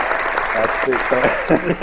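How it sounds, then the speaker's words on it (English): A clapping machine at Levi's Stadium in Santa Clara produces broad, steady, crowd-like applause, a dense continuous patter with someone talking over it. "Where's that clapping? Levi's Stadium. That clapping machine?"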